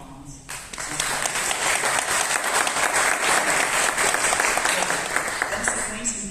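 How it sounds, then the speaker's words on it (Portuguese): Applause from the audience at an academic round-table event, a sustained round of clapping that starts abruptly, holds steady and loud for several seconds, then tapers slightly. "uma salva de palmas"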